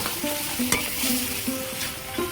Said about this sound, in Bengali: চিংড়ি মাছগুলো গ্রেভির মধ্যে দিয়ে আমি ভালো করে কষিয়ে নিয়েছি